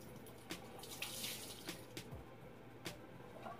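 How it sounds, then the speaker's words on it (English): A bathroom sink tap runs steadily while a wash rag is rinsed under it, a soft continuous water stream with intermittent splashes and drips, fairly quiet and close. "So I think I'm rinsing off that wash rag."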